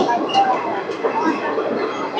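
The Rayagada-Guntur Express arriving at Bobbili Junction station, a rumbling rolling train with faint metallic squeals and clanks, moderately loud and continuous, with no speech over it.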